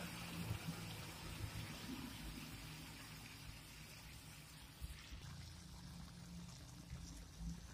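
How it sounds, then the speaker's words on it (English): Soy sauce poured over fish in a pan during cooking, a steady soft liquid pour and trickle over low kitchen background noise, continuous for several seconds with no talking. "Then add the soy sauce."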